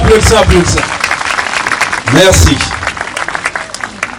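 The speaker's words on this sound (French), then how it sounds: "Applaudissez." Audience applause breaks out at a community gathering, loud and sustained, with people talking over the clapping near the start and again midway.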